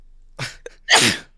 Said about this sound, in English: Ooh, bless you.